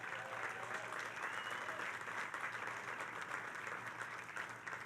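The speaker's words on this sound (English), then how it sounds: "Let's give her a round of applause." Crowd applauding at the groundbreaking ceremony for the New York Islanders' new arena at Belmont Park: dense, steady clapping from many hands that holds at an even level throughout.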